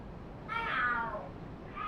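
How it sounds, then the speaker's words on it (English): Cats fighting in the video game Lost Judgment let out a drawn, wavering yowl of about a second, loud and alone, with a fainter cry starting at the end. "The hell? Are there cats fighting?"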